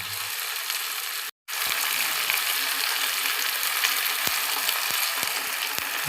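About 400 grams of broiler chicken meat sizzles and fries in a pan, a steady bright crackle that briefly cuts out, then resumes with occasional clicks and stirring taps.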